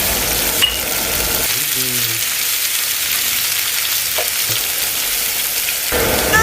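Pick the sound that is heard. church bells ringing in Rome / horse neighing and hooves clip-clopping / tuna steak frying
tuna steak frying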